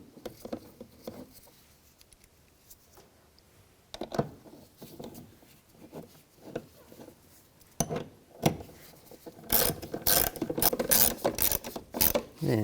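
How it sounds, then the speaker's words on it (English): A ratchet tightens the bolts on a side mirror of a 2006-2010 Volkswagen Jetta, with quiet handling at first, then sharp, close clicking bursts in the last few seconds. "And tighten these down."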